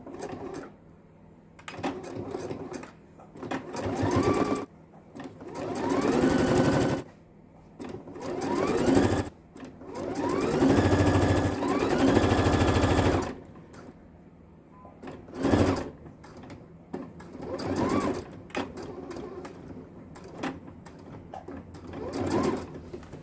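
A sewing machine stitches an extra seam line on a short, flared leopard-print skirt, running in several loud bursts of rapid whirring with pauses and shifts in speed between them, plus small handling clicks.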